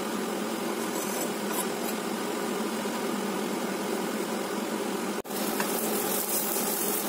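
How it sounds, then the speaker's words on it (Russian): Chopped onion fries in vegetable oil in a pan on the stove for a green borscht, a steady, even sizzle that holds throughout, broken by one brief dropout near the end. "Пока лук поджаривается,"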